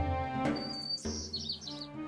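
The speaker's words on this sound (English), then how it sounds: "Bijan awoke to the sound of birds chittering their morning prayers to the sun." Birds chirp in short high tweets and trills at dawn over a low steady hum, a few calls close and clear, others fading in and out, with no voices.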